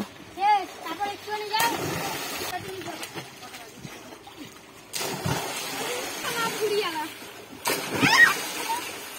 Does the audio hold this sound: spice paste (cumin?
no